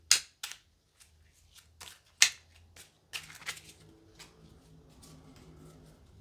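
A deck of tarot cards is shuffled by hand, giving sharp riffling bursts and soft slaps in irregular spurts, quiet and close, then fading into light handling noises.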